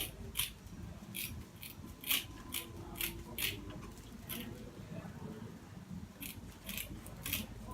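Scissors snip away excess material from a button hat block in a series of crisp, irregular cuts, close and quiet over a low background rumble.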